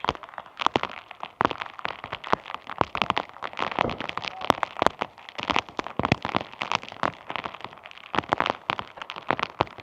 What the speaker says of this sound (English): It's still wonderful fun in the pouring rain.